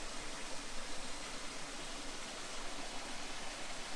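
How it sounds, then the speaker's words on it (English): A hidden waterfall in Shawnee National Forest rushes as a soft, steady broadband roar, fairly distant and low in level, continuous without breaks or voices. "See this beautiful waterfall."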